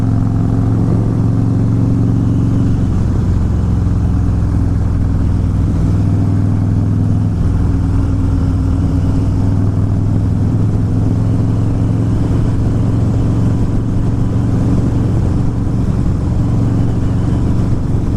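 A Harley-Davidson Fat Boy motorcycle is ridden, with a loud, continuous low engine rumble and steady road and wind noise that hold for the whole stretch.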